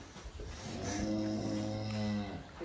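A single long, low moo from a huge blind cow, close and loud, rising and falling over a couple of seconds with background noise.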